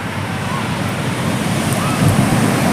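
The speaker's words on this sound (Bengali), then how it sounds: "আমার পাশে হচ্ছে বিশাল সমুদ্রটা, এই আরকে বিচ।" Sea waves wash in at RK Beach in Vizag, a broad steady roar of surf with wind buffeting the microphone, rising slightly toward the end.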